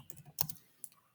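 A few quick keystrokes on a computer keyboard while configuring a router interface in a networking lab, close and fairly quiet with short clicky taps and pauses between them.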